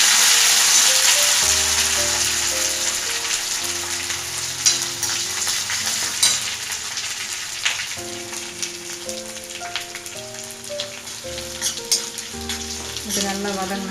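Dried red chillies, curry leaves and ginger frying in oil in a pan for mango rice, a steady crackling sizzle heard up close beneath loud background music, with no voices.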